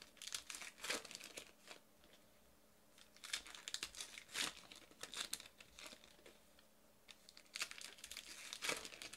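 Foil wrappers of 2018 Topps Archives baseball card packs crinkle and tear in several bursts of soft crackling, close by and fairly quiet, with brief pauses between openings.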